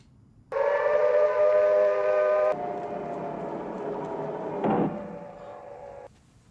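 A loud, steady wailing air raid siren in the 1960 film The Time Machine, with a harmonic tone, begins abruptly, shifts pitch partway through, then cuts off sharply, with faint background noise.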